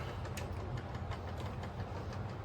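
A model train runs along its track with a soft steady motor hum and light irregular clicking of wheels, fairly quiet and close.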